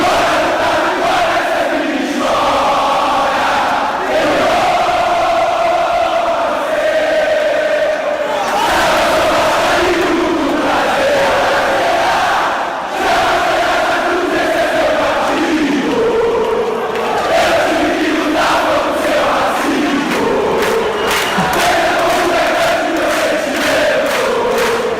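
Brazilian football fans of Vasco da Gama chant and celebrate in the stands, a massed crowd singing in rhythmic, sustained waves with bursts of cheering, loud and continuous throughout.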